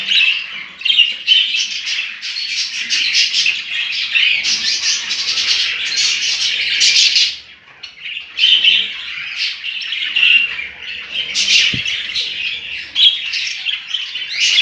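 Budgerigars in a home aviary keep up dense, busy squawking and shrill chirping that overlaps continuously and sounds loud and close, with one brief dip in the chatter midway and no talking.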